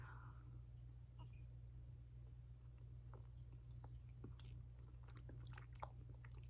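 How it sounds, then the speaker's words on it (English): Someone bites into and chews gooey Japanese ball snacks, making soft, sporadic, moist crunching and squishing sounds close to the mic over a steady low hum, with no talking. "when you bite into it, they're gooey inside"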